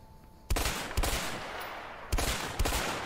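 Pump-action shotgun fire in the video game A Way Out: a few loud, sharp blasts spaced about half a second to a second apart, each with a lingering tail, with no talking over them.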